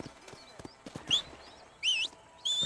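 A horse's hooves clip-clop in a quick, light rhythm in Red Dead Redemption on PS5, with a few high whistle-like tones sounding over the hoofbeats.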